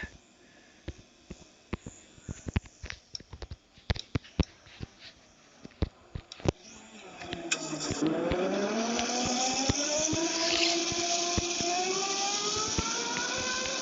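Racing car engines in the Roblox dealership tycoon video game: a burst of sharp clicks gives way to a loud, sustained engine roar whose pitch sweeps upward as the cars accelerate, with no talking.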